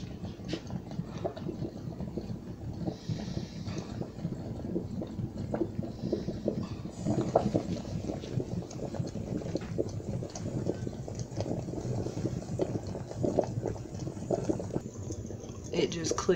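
Coffee perks inside a 1940s Sunbeam Coffeemaster, a dense, constant bubbling boil heard up close for the whole stretch, with faint voices now and then beneath it.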